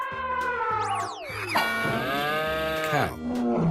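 A cartoon cow in a 3D animal boxing video game lets out a long, loud, drawn-out moo, accompanied by sweeping electronic game tones and a bright synthetic chime.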